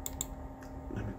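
A single computer keyboard key press, a faint close click or two against a quiet background.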